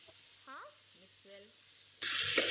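Chili powder and spices for an Andhra fish curry sizzle loudly in a pan as they are stirred, the burst of frying arriving near the end after a quieter stretch with brief voice sounds.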